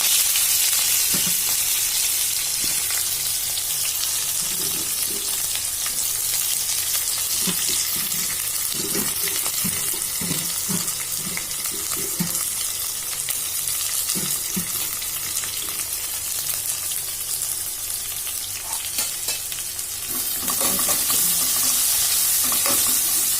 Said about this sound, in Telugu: మొత్తం మీడియం ఫ్లేమ్లో పెట్టి ఫ్రై చేస్తూ ఉండాలి